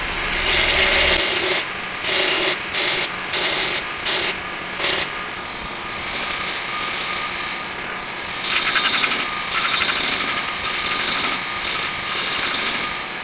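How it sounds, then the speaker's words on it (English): A belt sander tapers the shoulder of a steel axe head in loud, rasping grinding bursts. Short repeated passes come first, then a quieter steady stretch, then longer passes near the end, with no talking. "I'm going to angle the belt so it just kind of tapers this shoulder, so it just doesn't stop"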